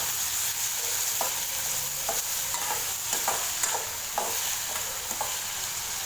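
A quarter kilo of tomatoes is stirred into a sizzling pan, rhythmic scraping strokes of a spoon every second or so over a constant frying hiss, close up with no talking.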